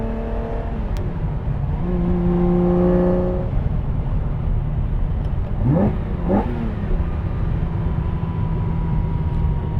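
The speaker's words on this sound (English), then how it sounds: "that V12 sound is just a symphony to the ears" A 1973 Ferrari 365 GTB/4 Daytona V12 engine revs and roars continuously, with a couple of sharp rising blips partway through, loud and close.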